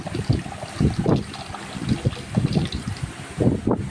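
Water pours into a pot of brinjal kulambu in uneven splashing gurgles that rise and fall in short bursts, close and fairly loud, with no talking.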